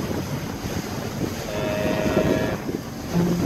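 A sailboat motoring under engine through fog: a steady low engine drone blends with close, continuous wind and water rush, with no voices.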